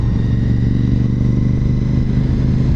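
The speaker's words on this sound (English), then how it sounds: "I'm out for a ride, and actually my wife is following me on her motorcycle." A motorcycle engine drones steadily at cruising speed, loud and close, with a constant rumbling hum and no pauses.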